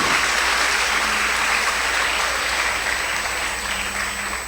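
A church congregation breaks into loud, sustained applause for Christ, a thick, even roar of clapping in a reverberant hall with a faint steady tone running underneath, gradually easing off.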